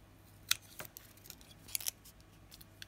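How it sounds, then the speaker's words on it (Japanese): Scissors snip through thin folded paper while a paper flower is being cut, with a few sharp, close clicks spaced irregularly against a quiet room. "先ほどのハサミを使ってこれを、で、左手で引っ張りながら回します。"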